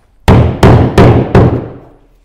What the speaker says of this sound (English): And then hammer in the rest.